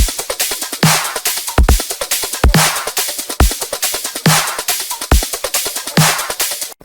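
An electronic drum loop of kick, snare and hi-hats plays together in a tight, driving rhythm, punchy low kicks and crisp snare hits repeating evenly, loud and with no voices.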